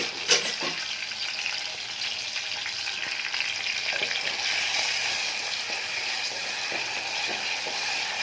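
Spices frying in oil in a pan, stirred with a ladle, give a steady close sizzle with occasional scraping clinks.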